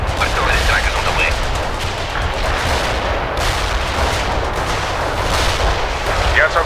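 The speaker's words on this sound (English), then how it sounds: "Artillery strike is on the way." An artillery strike in World in Conflict rumbles as a continuous roar of dense, overlapping blasts and gunfire, loud and sustained throughout with no pauses.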